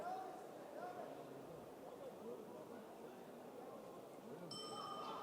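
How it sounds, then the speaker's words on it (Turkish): A gong ending the third round of a women's 80 kg combat sports bout rings near the end as short bright metallic tones over steady crowd noise and commentary. "Gong'la birlikte Üçüncü roundda sona erdi."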